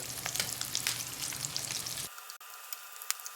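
Potato tacos with chorizo frying in a pan, a continuous close sizzle that drops to a thinner, quieter crackle midway, with a few faint clicks and no talking.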